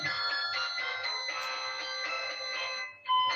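A mobile phone rings with an incoming call, a steady repeating electronic ringtone at moderate level that pauses briefly near the end, with no talk over it.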